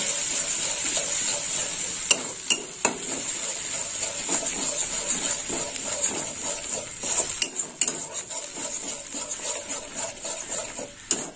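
A spoon scrapes and clinks against a pan while masala cooks with two spoonfuls of sour yogurt. The knocks come at irregular moments over a constant soft hiss of sizzling.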